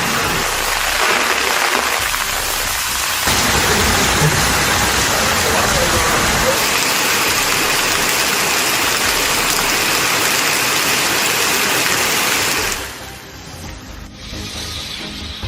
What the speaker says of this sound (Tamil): நாகை மாவட்டத்தில் நள்ளிரவு முதல் கனமழை கொட்டி தீர்த்தது.